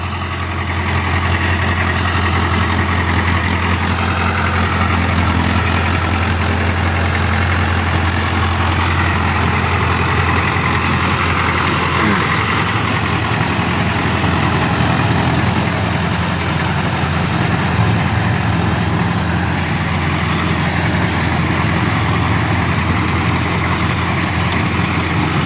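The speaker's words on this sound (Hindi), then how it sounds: "ਬਾਕੀ 1500 ਚੱਕਰਾਂ 'ਤੇ ਚੱਲਦਾ ਪਿਆ ਟਰੈਕਟਰ" A Mahindra tractor engine with CRDI fitted runs steadily at about 1500 RPM, a loud continuous low diesel drone with a constant rumble and no speech, sustained throughout.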